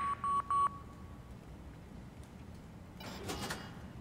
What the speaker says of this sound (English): Okay, that door opened.